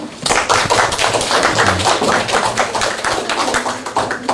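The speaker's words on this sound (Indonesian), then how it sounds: "Tepuk tangan." A classroom group applauds with rapid, dense hand clapping, steady and fairly loud. The patter comes in quick irregular taps and lasts several seconds.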